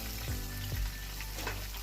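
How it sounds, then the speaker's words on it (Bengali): A dry red chili and a bay leaf with a little five-spice tempering fry in hot oil over low-to-medium flame, a steady close sizzle with a couple of brief stirring scrapes. "তো দেখো আমি ফোড়নে দিয়ে দিলাম একটা শুকনো লঙ্কা, একটা তেজপাতা, অল্প 5 ফোড়ন।"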